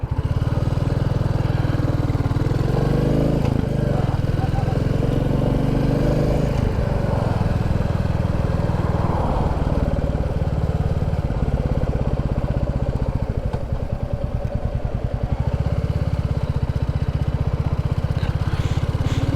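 A Royal Enfield Classic 350 motorcycle rides along a road in the Yorkshire Dales in summer, its engine throbbing loudly and steadily throughout, mixed with constant wind rush.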